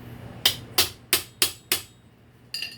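Five sharp hammer blows land in a steady rhythm on a clenched nail being flattened against a wooden board, close and loud, each ringing briefly, with a lighter clink after a pause.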